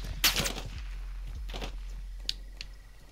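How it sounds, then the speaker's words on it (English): Gunshots ring out in the Call of Duty Modern Warfare 2 video game: a few sharp, separated cracks with short echoing tails over a low steady hum, spaced irregularly across the moment. "Who's shooting at me?"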